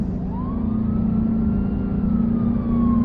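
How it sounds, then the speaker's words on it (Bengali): A Mercedes taxi speeds through city traffic as a dramatic story effect: a loud, steady engine drone fills the clip while a rising and falling siren wails over it. "আমাদের মার্সিডিজ ট্যাক্সি ঝড়ের মতো এগিয়ে চলল ট্রাফিক বাঁচিয়ে।"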